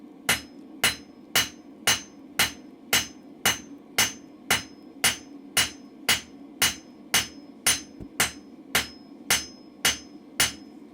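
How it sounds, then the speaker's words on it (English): A blacksmith's hammer strikes a hot steel chisel on the anvil in an even, rapid rhythm, about twenty close, ringing blows with no voices. "bring your hammer back slightly"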